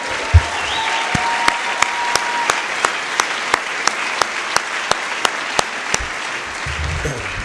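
An audience at a celebration event claps in sustained applause, a dense, even wash of hands filling the room, loud and continuous from start to finish.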